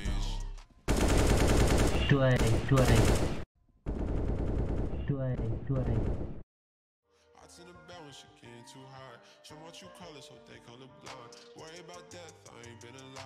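CS:GO video game gunfire blasts in loud, dense rapid bursts of automatic shots, then continues as a quieter, dull, muffled version of the same shooting and effects.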